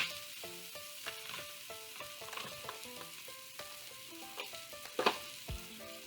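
Roasted eggplant and green pepper sizzling on a grill, a soft, steady crackle and hiss with a few louder pops and scrapes, heard under gentle background music.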